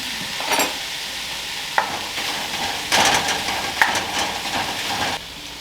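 Fully cooked ground beef from the freezer is tipped into a hot pan with minced garlic and stirred, a close sizzle broken by scraping spoon strokes and a few clacks, no voices.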